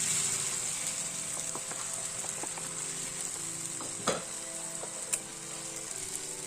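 Cashews with tomato, onion, garlic and ginger frying in a pan, a soft continuous sizzle under intermittent scraping strokes of a spatula and two sharper knocks near the end.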